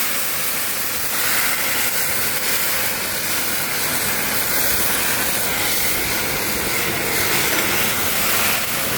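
Onions sizzling and being stirred in very hot oil in a large pot while cooking katla fish kalia for 16 kilos of fish, a steady, loud, dense hiss that runs continuously with no voices.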